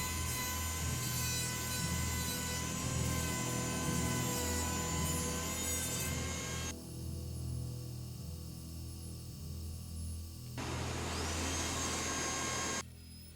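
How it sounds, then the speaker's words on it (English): Dremel rotary tool cutting PVC pipe into a four-slot barrel compensator, a steady high-pitched whirring grind close up that drops away briefly partway through and then resumes before ending. "taking a section of PVC piping and turning it into a 4-slot barrel"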